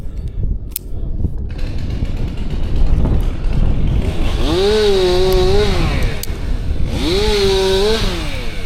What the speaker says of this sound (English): I'll try and be a bit louder while we're using the chainsaw down there